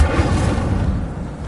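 A fire spell cast in Hogwarts Legacy erupts as a dense, roaring blast of flame, with loud low rumbling that is sustained and steady throughout and gradually eases toward the end.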